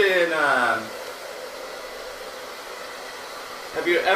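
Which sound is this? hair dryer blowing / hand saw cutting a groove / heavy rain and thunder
hair dryer blowing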